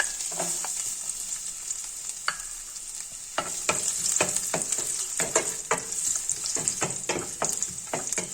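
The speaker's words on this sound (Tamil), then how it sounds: "ஆயில் சேர்த்து ஹீட் ஆனதும் ஃபர்ஸ்ட் நம்ம பூண்டை சேர்த்துக்கலாம்" Garlic sizzles steadily in hot sesame oil while frying for a goat spleen dish, with a constant bright hiss and repeated sharp spatula scrapes and taps against the pan.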